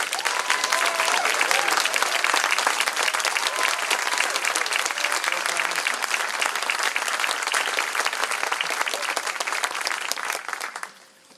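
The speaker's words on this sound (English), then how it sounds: "Let's give them a big round of applause." A crowd at a Texas political event applauds standing military veterans: loud, dense, sustained clapping that holds steady for about ten seconds before tapering off abruptly, with no voices over it.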